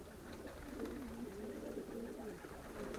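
Soft, low cooing of young racing pigeons rolls on continuously, faint and somewhat distant against a quiet background hiss.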